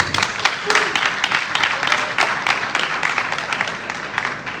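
A crowd cheers and applauds a chairperson of a national revenue authority at a bar association election event, with dense, continuous clapping and shouts lasting throughout.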